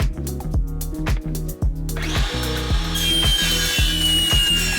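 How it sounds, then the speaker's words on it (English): A circular saw cuts through a wooden board for a DIY bench, first a rhythmic run of repeated mechanical pulses, then a loud bright whine as the blade bites into the wood, continuous and close with no talking. "I can use that as a straight line for my circular saw."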